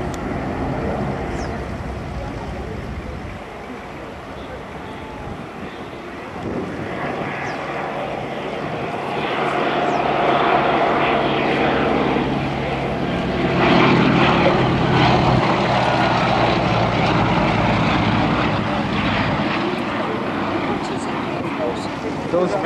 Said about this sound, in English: let's enjoy the 2 Mercury-engined aircraft in beautiful Shuttleworth formation as they come by